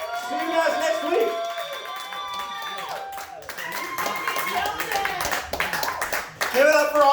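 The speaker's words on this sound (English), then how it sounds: "Only Phil is still here, but he can accept the applause for the rest of the comics, too" A comedy club crowd at Mortimer's claps and whoops for the comics at the end of the night, with lively applause and cheering voices that rise again toward the end.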